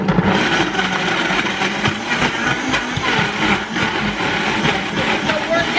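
A kitchen blender whirs loudly and continuously as it blends a mango smoothie, a dense, rough grinding roar that fills the moment, with voices faintly mixed in.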